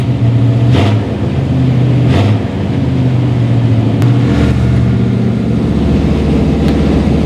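Loud, close Chevy El Camino engine starting and revving, a rough continuous roar with several sharp rises in pitch and no voices.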